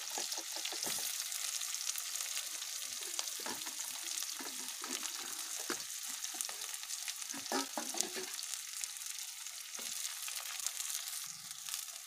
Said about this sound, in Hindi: प्याज को मैं हल्का ब्राउन होने तक पकाऊंगी।